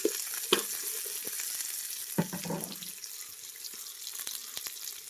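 Onions sautéing in a pan, a steady soft sizzle with a few sharp clinks and a brief louder burst of stirring partway through, close and alone without talk.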